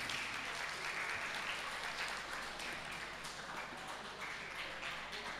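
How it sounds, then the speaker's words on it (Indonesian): Sustained applause from a large audience, continuous dense clapping at an even level for several seconds. "Tepuk tangan untuk kita semua."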